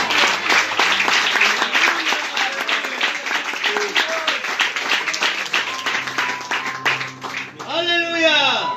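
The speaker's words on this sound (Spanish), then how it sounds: "Yo pensé que iban a aplaudir" A church congregation at a founding service claps together in dense, steady applause over a prolonged stretch, with voices mixed through it before a brief calm and a louder burst at the end.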